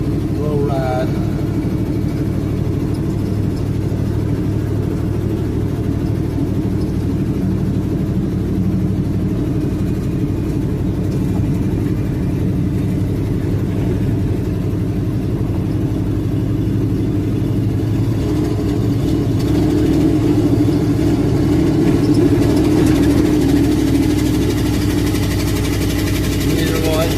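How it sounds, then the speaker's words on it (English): Car engine idling roughly with a poorly tuned carburetor, a steady low uneven rumble with slight wavering that persists loud and close for the whole stretch. "The carburetor ain't running exactly right either."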